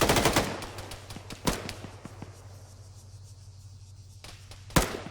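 Gunfire rings out during milsim realism unit training: a sharp, loud close shot early, scattered fainter pops and cracks, then another hard report near the end over a low steady hum.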